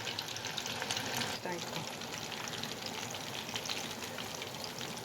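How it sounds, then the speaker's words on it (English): Oil sizzles and crackles steadily as mutton kebabs deep-fry, a constant bubbling hiss with a soft stirring bump partway through. "This is the second batch I'm frying"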